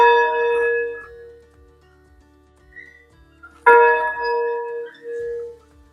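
A church bell in Barracão, Paraná rings out clearly, with a lingering tone fading away and then a second strong strike that rings on and decays in a quiet setting.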